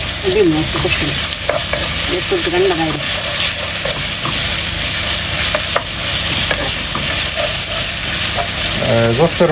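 Onions, spices, ginger and garlic being stirred and fried with beef in a pan, a steady close sizzle with scraping stirs throughout and brief faint talk near the start.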